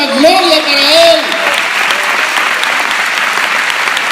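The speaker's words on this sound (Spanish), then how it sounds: "Un aplauso para Él, una gloria para Él." A church congregation bursts into loud, sustained applause right after a brief raised voice, with a thick wall of clapping that continues evenly to the end.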